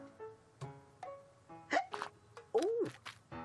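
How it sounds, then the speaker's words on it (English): A cartoon character hiccups repeatedly, producing a series of short voiced hiccup sounds with squeaky, wavering vocal yelps, spaced irregularly and fairly quiet. "Abney had caught the hiccups."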